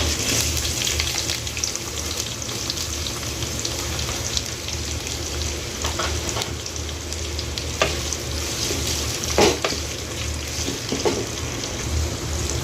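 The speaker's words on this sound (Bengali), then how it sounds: "এবারে আমি কড়াইতে পেঁয়াজ কুচিটা দিয়ে দেব।" Chopped onion hits hot oil in a kadai already toasting cardamom and whole cumin, giving a steady, dense sizzle throughout with a few sharper spatters and stirring knocks, no voices.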